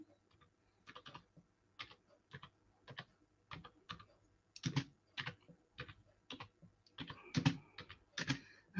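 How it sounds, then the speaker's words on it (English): Someone types on a computer keyboard with a single finger, producing sparse, irregular, close clicks in small clusters, quiet with gaps between keystrokes and no talking. "I'm typing one finger only."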